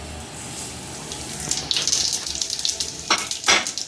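Seven or eight whole red chillies fry in a spoonful of oil, a steady close sizzle that swells into brighter crackling bursts toward the end, no talking.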